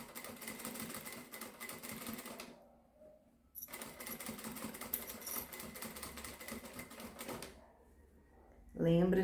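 A sewing machine topstitching the flap of a small shoulder bag, running in two long fast rattling bursts with a brief pause between, under a person's talk.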